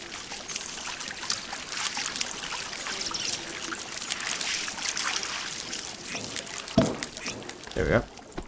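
A shower in Green Hell pours water in a steady hiss and trickle, with two louder splashy bursts near the end and a voice speaking over it.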